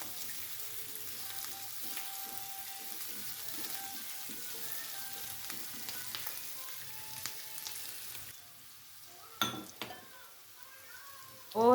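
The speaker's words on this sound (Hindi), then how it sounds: "तो साथ साथ आपने इसको हिलाते रहना है" Vegetables with capsicum stir-fry in a pan with a soft, steady sizzle, light scrapes and clinks of stirring, then a few sharper clatters near the end.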